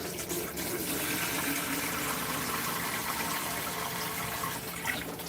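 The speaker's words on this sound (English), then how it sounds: "we're going to fill this reservoir, this one down here" Water poured into the reservoir of an African violet pot, a steady splashing, trickling flow that runs on throughout at moderate level, with no voices.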